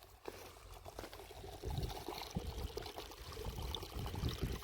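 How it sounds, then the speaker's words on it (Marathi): Well water from a field pours steadily into a pit, a continuous close splashing and trickling rush with no talk over it. "हे बघ इथं पाणी खड्ड्यात चाललंय"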